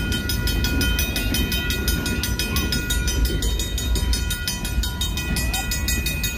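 BNSF freight train cars roll past close by, a loud continuous rumble with rhythmic clicking wheel beats throughout.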